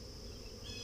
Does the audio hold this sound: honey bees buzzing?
yes